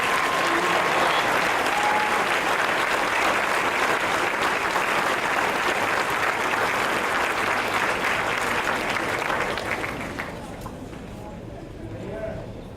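Sustained applause from a large crowd at a high school graduation award presentation, loud and dense, fading toward the end as the clapping thins out.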